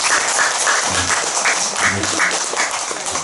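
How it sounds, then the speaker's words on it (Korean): Dense, steady clapping from a group fills the clip, a broad continuous patter with a few low murmurs underneath. "그만하라고 얼른 박수치고"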